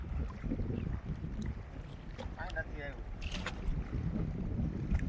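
Fishing boat out on open water, with steady wind buffeting the microphone and a low engine or water wash running continuously, plus a brief faint tonal sound midway; no clear talk.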